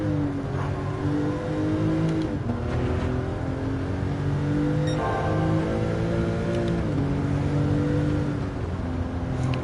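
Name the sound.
Porsche race car engine revving in video game Gran Turismo 7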